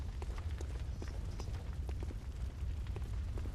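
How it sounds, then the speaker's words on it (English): Fire burns across the Hunter's Dream in the Bloodborne video game, a steady, dense low roar with faint crackles and soft footstep-like taps scattered throughout. "and the place was on fire"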